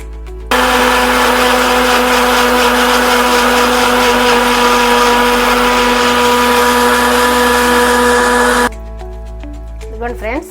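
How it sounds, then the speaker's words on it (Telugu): A mixer grinder blends dry fruits with dates, figs and honey into a smoothie, a loud steady whirring roar that runs for about eight seconds, then cuts off abruptly and leaves a brief rattle. "మిక్సీకి వేద్దాం ఫ్రెండ్స్ ఇది."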